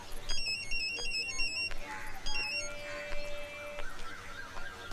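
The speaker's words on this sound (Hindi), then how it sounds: "अबे नहीं पता तो निशा को फोन लगा और उससे पूछ।" A mobile phone rings during a call in a Hindi film comedy scene, with a bright repeating electronic ringtone melody in two bursts, fairly faint, under background noise and music.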